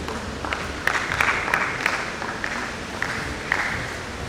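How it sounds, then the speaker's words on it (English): Audience at a tech community panel event applauding a speaker, a soft, steady patter of many hands clapping at moderate distance, with a few sharper claps standing out. "Can we all clap for Mr. Kelvin?"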